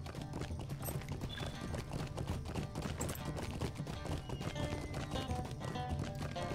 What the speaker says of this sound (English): Find the horsey.